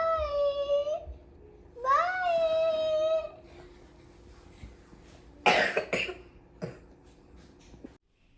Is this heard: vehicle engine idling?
no